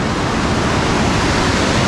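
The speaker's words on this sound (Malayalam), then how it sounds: "ഇവിടെ കാപ്പിമല വെള്ളച്ചാട്ടം ഇവിടെയാണ്." Kappimala waterfall gives a steady, loud, broadband roar of rushing water that holds constant throughout, close and alone with no voices.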